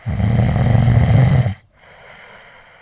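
One long, loud, rattling snore, close by, cuts off abruptly into quiet breathing.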